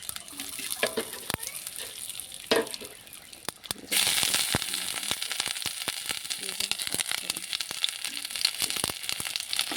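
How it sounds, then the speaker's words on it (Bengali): Dry red chillies and bay leaves fry in hot oil for a Bengali sukto, starting with sparse crackles and stirring clicks, then a sudden louder, steady sizzle about halfway that carries on close by with scattered pops. "দিয়ে দেবো শুকনো লঙ্কা, তেজপাতা"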